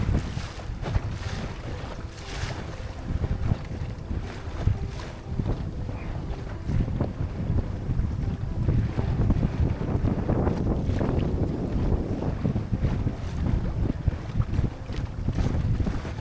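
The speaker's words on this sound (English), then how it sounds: "when we got to the farthest point of the loch, the wind started to build up slightly." Wind building up over a Scottish loch at Inverpolly while out fishing in a small boat with an electric outboard, a steady loud rush of gusts buffeting the microphone with no voices.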